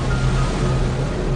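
Steady roar of wind and waves on open sea battering against a small boat, a dense unbroken wash with a low rumble underneath, loud and continuous throughout.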